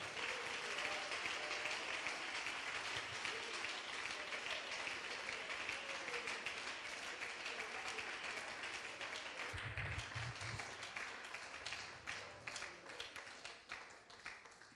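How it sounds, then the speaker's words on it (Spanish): A church congregation claps loudly and steadily for the Lord, a dense sustained round of applause filling the room before tapering slightly near the end. "Dele fuerte ese aplauso al Señor."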